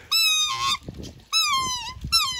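A Cape Barren goose gives loud, close, harsh nasal honks in two long bursts and the start of a third, with quieter grunting between calls.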